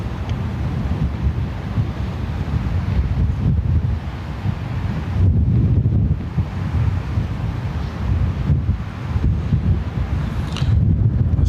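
Strong, steady wind buffets an outdoor microphone at Lanzarote Airport, a continuous low rumbling roar that swells and dips in gusts for the whole stretch, with no voices.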